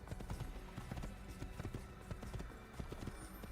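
Galloping horse hooves in Assassin's Creed pound in a rapid, continuous rhythm, loud and close, layered over rumbling game ambience with no talking.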